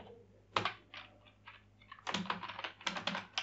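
Rapid clicking of computer keyboard keys during PHP coding, a short isolated press followed by a few scattered taps, then a quicker, denser burst of typing up close.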